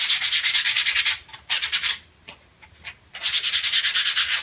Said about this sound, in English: That means sanding with a piece of 80 grit sandpaper.